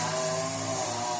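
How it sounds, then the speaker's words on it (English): A lawn mower drones steadily outside, a continuous engine hum with no break through the short stretch. "They mowing the lawn."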